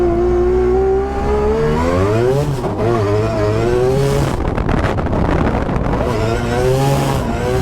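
A car accelerates hard with a vibrating drive shaft on a low-grip track, its engine note rising and falling loudly and close through several gear changes.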